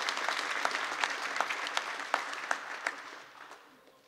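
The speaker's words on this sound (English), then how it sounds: "give yourselves a round of applause for getting this legislation passed" An audience at a legislative bill signing applauds with crisp, close claps that are loud at first and gradually fade away over about four seconds.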